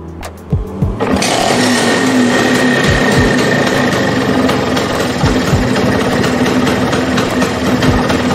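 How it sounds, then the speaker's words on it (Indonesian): A Vespa scooter engine starts with a few sharp clunks, then settles into a loud, steady, buzzing idle that runs close and continuous without any talking. "sekarang gue coba nyalain mesinnya ya"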